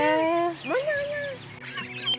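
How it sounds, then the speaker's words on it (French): A loud, close duck-like quacking and honking call, with rising and falling tones and a short burst near the end. "Oh, petit canard."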